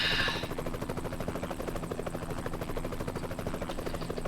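Helicopter in American Truck Simulator droning steadily beside the Grand Canyon, a continuous rotor buzz carrying at moderate level under game ambience, no talk over it.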